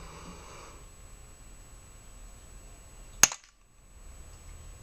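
Air rifle firing a single pellet, one sharp close crack followed by a short ring and then quiet.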